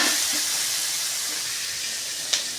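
Capsicum sautéing in hot oil in a pan, a steady hiss and sizzle with one brief clink partway through.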